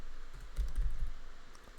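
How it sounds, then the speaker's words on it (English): Typing on a computer keyboard while entering pip install commands in a command prompt, a brief run of soft, close clicks that grows busier in the middle, with no talking. "head over to the command prompt and just type out pip install, then the packages you need to install"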